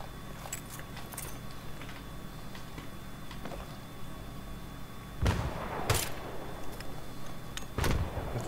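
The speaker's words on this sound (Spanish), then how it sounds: "Escucho tus disparos." Sharp bursts ring out in Battlefield 3, a couple of loud gunshots near the end over a low background hum, with fainter clicks earlier.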